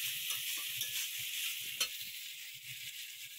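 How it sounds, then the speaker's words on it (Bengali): Meat cooks with raw tomato in a pan, giving a steady bright sizzle over which a spoon scrapes and stirs in soft, uneven strokes. "এটা আমি একবার কাঁচা টমেটো দিয়ে এটা একটু রান্না করছি"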